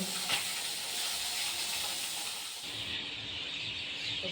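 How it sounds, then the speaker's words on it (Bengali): Fish frying in a pan gives a continuous, even hiss and sizzle close by, with no talking over it. "মাছটা ভেজে নিই"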